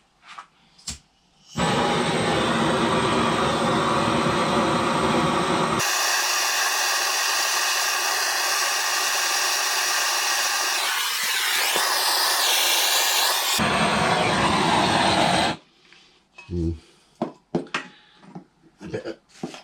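A heat gun blasting hot air onto a seized bolt on a Kawasaki Zephyr 750 motorcycle engine gives a loud, steady roaring hiss for about fourteen seconds, then cuts off, leaving scattered clunks and handling noises.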